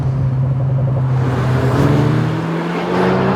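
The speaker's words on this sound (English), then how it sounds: "the sound this car makes, by 2026 standards, it's actually mega. It's got a really strong, raspy bark to it." Alpine A110 sports car engine and exhaust, a loud, steady raspy drone with a strong low rumble, close by and continuous throughout.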